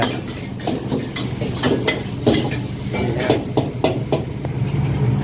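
Dry sukiyaki being stir-fried in a pan at a busy restaurant, with a sizzling base under repeated sharp scrapes and clanks of the spatula against the metal in an irregular rhythm.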